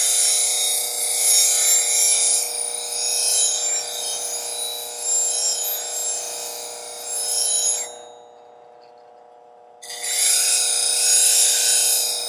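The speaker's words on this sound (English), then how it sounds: "All I'm doing is putting a nice even grind on it" A blade being ground to an even edge by hand, a steady rasping scrape drawn back and forth continuously, close and loud, pausing briefly before resuming.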